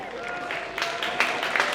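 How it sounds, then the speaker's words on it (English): Football fans applaud at an Emirates FA Cup third qualifying round match between Weymouth and Bath City, steady broadband clapping from a nearby crowd with a few louder bursts, under continuous commentary. "And a round of applause."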